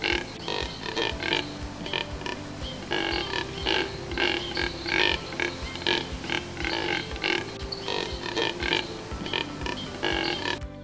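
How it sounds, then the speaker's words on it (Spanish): A group of limpkins gives harsh, guttural, pig-like grunting calls in steady, overlapping bursts that repeat throughout, loud and close over a dense outdoor background. "cuando está en grupo produce graznidos ásperos y guturales, que recuerdan al gruñido de un cerdo"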